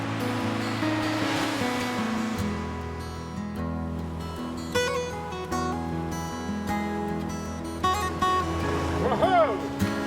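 A boat engine drones at shifting pitch while heading out through the ocean surf break off Exmouth Gulf. Waves and water rush around it, and there are a few brief knocks and squeaks.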